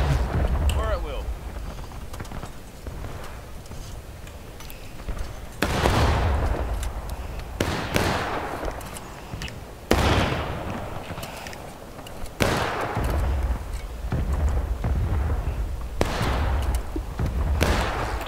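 Musket volleys in War of Rights, a Civil War skirmish game, come as loud booming shots every few seconds. Each one rolls out into a long decaying rumble, and someone talks throughout.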